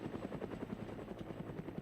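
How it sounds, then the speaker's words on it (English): Helicopter in the military game Arma 3 carrying a battle group of enemies, a steady, loud rotor chop with rapid rhythmic thumping over an engine whine, close and continuous throughout with no talk. "This battle group has a helicopter full of enemies."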